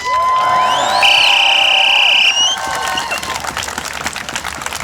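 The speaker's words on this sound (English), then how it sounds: "Can we get another big round of applause, please, for Jewish Voice for Peace?" A crowd at a Gaza solidarity encampment at the University of Wisconsin–Milwaukee cheers and whoops, with a long shrill whistle held over the shouting before the noise settles into steady, close clapping and scattered voices.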